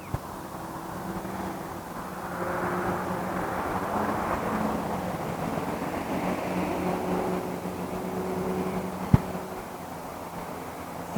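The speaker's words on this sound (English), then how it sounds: "hear that big truck." A big truck rumbles past at a distance, its low engine drone swelling and then slowly fading away.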